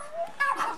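Papillon puppies whimper and yip in short, high, close-up cries, with a brief louder burst midway through.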